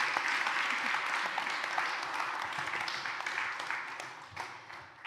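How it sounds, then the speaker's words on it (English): Seminar audience at a development bank annual meeting applauds its panelists, a dense round of clapping heard from a moderate distance that gradually fades toward the end. "let's give our panelists a warm round of applause"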